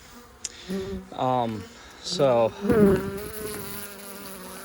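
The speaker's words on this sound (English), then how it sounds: "These bees are not happy at all." Agitated honey bees buzzing around an open hive from a small two-frame walkaway split, a dense insect hum running throughout, while someone talks over it in short bursts.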